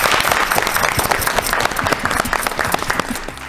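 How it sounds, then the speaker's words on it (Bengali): A game show studio audience applauds two tied contestants, loud close clapping from many hands that stays dense for a few seconds before thinning slightly. "জোরে হাততালি দুজনের জন্য"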